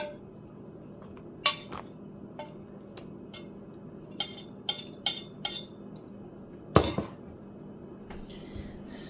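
Cutlery and plates clink as bacon and eggs are set on top of freshly made pancakes, a scattering of sharp metallic and ceramic taps spread across a quiet kitchen, with one heavier knock near the end.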